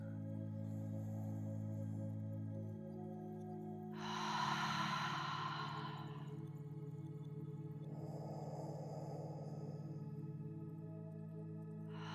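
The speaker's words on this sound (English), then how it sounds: "Take a full deep breath in through your nose" A slow, deep breath drawn in through the nose during a yoga cool-down, heard as a soft airy rush partway through, followed later by a gentle exhale, set over a steady background drone.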